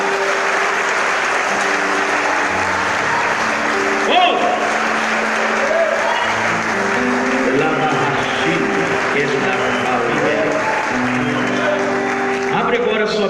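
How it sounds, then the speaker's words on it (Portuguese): Sustained congregation applause fills a church service, steady and dense throughout with voices and shouts mixed in over the clapping. "Aplaude o Senhor por fim essa palavra"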